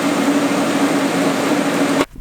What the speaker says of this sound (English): I think I'm gonna tack weld these in place